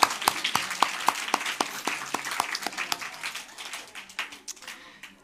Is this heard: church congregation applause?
yes